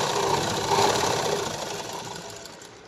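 A sewing machine stitches blouse fabric in a short, loud, rapid mechanical whirr that fades toward the end.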